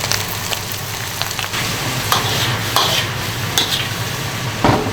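A spatula scrapes and tosses food in a big wok over high heat, pork lung and heart with garlic sprouts, sesame oil and coriander sizzling steadily with sharp metallic clanks at irregular intervals.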